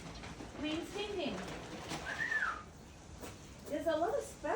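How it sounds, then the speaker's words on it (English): Sparrows and pigeons gathered at a seed-strewn feeding spot give faint chirps and soft calls scattered through the clip, with a brief brighter whistle-like call near the middle and a cluster of calls toward the end, all against steady outdoor background. "There's a lot of sparrows today."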